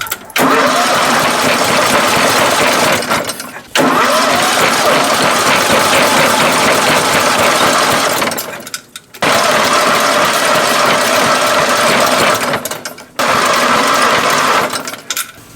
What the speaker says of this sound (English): Let's see if we can start it with the mower.